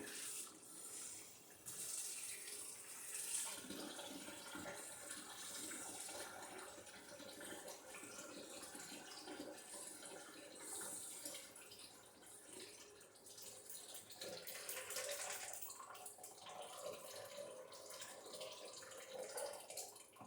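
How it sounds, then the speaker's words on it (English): Cold tap water runs steadily into a carboy of homemade apple wine, a continuous faint rushing and splashing that lasts throughout without voices. "So I'm going to add some cold water to it to cool it down."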